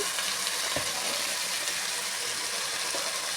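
Vegetables sautéing with softened onion and tomato in a sambar pot, a steady close hiss of frying with a couple of faint stirring knocks, no talking.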